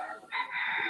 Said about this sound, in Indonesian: ini ada tadi suara ayam kate ya